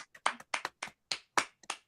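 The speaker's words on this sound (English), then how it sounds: "Clapping" Hands clap in about eight short, sharp bursts with small gaps between them, close and fairly loud. No voice can be heard.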